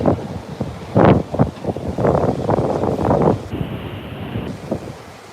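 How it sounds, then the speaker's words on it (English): Strong gusting wind buffets the microphone while plane spotting at Heathrow airport, with loud rumbling bursts and steady blustery roar throughout. "God, it's windy."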